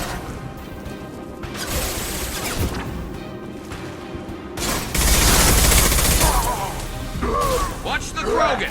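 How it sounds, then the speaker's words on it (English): Heavy weapon fire and crashing impacts in a firefight against a charging Krogan in Mass Effect 2 on PS4, loud bursts and a sustained blast mixed with clattering effects, voices talking over the action. "Firing an impact shot!"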